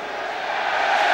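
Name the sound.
ironic cheer from home football crowd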